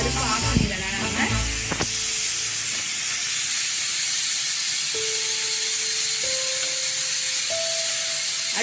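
Steady, loud hiss of steam escaping from a pressure cooker on a stove after cooking idli sambar, with a few tonal whistle-like notes rising above the rushing noise.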